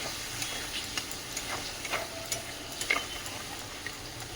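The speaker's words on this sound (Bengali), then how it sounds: "এবার নারকেল বাটাটা দিয়ে দিচ্ছি, নারকেল আর টমেটো, এটা দিয়ে ভালো করে কষবো।" Coconut paste and tomato being stir-fried in a pan, a soft steady sizzle broken by scattered light clicks and scrapes of a spoon at close range, with no talking.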